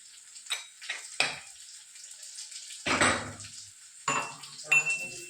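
Onion and chili powder fry in a pan while a spoon scrapes and clinks against the metal, giving short bursts of sizzling and stirring separated by quiet gaps, close and moderately loud.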